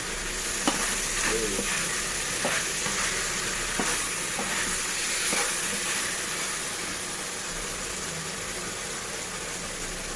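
Chicken and holy basil stir-fried for pad kaprao, a steady hissing sizzle broken by repeated scraping clicks from the stirring, going on evenly with no talk.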